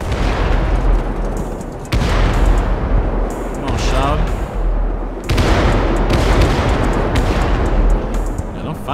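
Fireworks burst in the video game GTA 5 during a night drive in an LA street setting, a series of loud booming explosions with crackling tails, a big blast near the start and another midway, over a low rumbling background.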